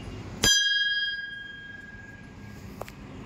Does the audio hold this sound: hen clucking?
no